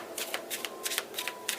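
A deck of tarot cards shuffled by hand at a reading, producing four quick crisp riffling bursts in an even rhythm, close up and clear with no talking over them.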